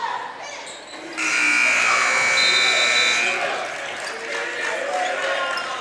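A loud, sustained electronic buzzer sounds in a high school girls' basketball gym at the end of a quarter, holding for about two seconds over crowd noise and then fading into the arena's ongoing din.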